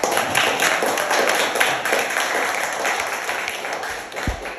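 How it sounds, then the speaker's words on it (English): An audience claps for panelists at the close of a conference panel discussion, a dense round of applause that stays strong before gradually thinning toward the end, with a few louder individual claps. "Can I get one more round of applause?"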